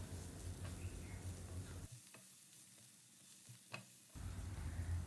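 Mushrooms with green chilli, salt and black pepper are stirred in a sizzling pan, a close frying hiss broken by a quieter stretch with a few spatula clinks before the sizzle returns.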